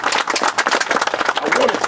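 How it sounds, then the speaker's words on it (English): Outdoor crowd applause for the lead artist at a mural unveiling at a historic community center in Conyers, Georgia, a dense, loud patter of many clapping hands, steady and close, with voices mixed in. "Give him a round of applause."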